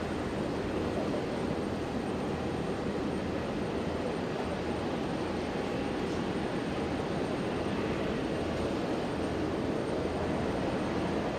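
A jet aircraft takes off at Brisbane Airport: a loud, continuous broadband roar that holds steady throughout, heard from a distance with no voices.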